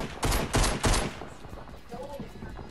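Three sharp, loud gunshot bursts in quick succession in a video game, with talk continuing faintly afterward.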